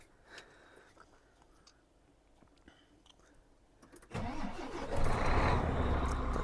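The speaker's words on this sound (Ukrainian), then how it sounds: "зараз заводимо машинку і їдемо на двір, на площадку" A Volvo grain truck hauling a 50-cubic-metre semi-trailer cranks and fires up after a quiet stretch with faint clicks, its engine catching abruptly and settling into a loud, rumbling idle close by.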